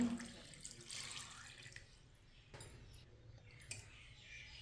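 Water runs and splashes into a cooking pot holding washed beef pieces at close range, in uneven bursts with brief gaps, and no voices are heard.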